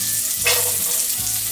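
Farm butter sizzling in a hot frying pan, a loud close crackling hiss that starts abruptly and runs steadily for about a second.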